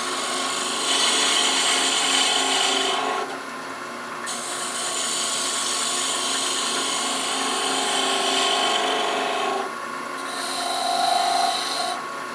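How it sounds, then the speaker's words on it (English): Steady scraping and whirring of a wood lathe as a 3/8 inch detail gouge cuts a spinning hot air balloon ornament, with the pitch shifting when the tool lifts off and bites again. "Switch back to our 3/8 inch detail gouge."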